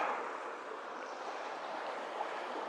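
Colquitz Creek runs high after a storm, usually a trickle but now in full force, giving a constant soft hiss of rushing water with no talking.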